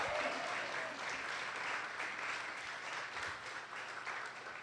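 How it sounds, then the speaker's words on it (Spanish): A church congregation at a sermon service applauds in a continuous, broad patter of many hands, heard at a distance and fairly quiet, sustained throughout without pause. "Fuerte ese aplauso a Jesucristo, el Rey de Gloria."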